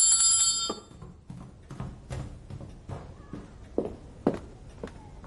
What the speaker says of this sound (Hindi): हमें बस ये घंटी बजानी है ऐसे।